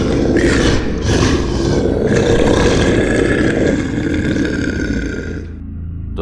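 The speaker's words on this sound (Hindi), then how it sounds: "यह सुनते ही वह राक्षसी जीव दहाड़ा।" A demonic creature's roar in a forest battle story, a dense, sustained rumbling roar with a growling texture, loud and continuous for about five seconds before tapering off.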